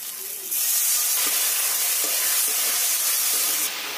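Water poured onto a fried spice paste for a paneer dish bursts into a loud, sharp hiss that holds steady for about three seconds before easing back to a softer sizzle.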